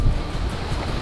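Steady wind roar and rushing waves aboard a 388 sailing yacht in about 20 knots of wind, one reef in the mainsail and full jib, making around 8 knots; constant broadband noise with no talk.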